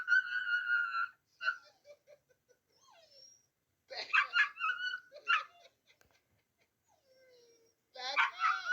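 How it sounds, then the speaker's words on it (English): A dog gives several short, high yips and whimpering barks in bursts, separated by quiet pauses, close by with no talking. "I like her bark"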